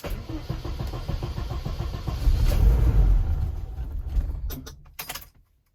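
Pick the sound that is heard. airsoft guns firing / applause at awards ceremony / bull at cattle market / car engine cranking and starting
car engine cranking and starting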